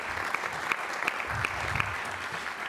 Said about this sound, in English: Would the members of the General Plan Advisory Committee please stand up so we can give you a round of applause?